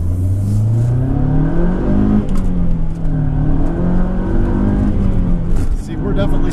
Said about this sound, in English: See, we're definitely spinning there.